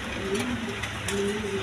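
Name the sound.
black beauty pigeon cooing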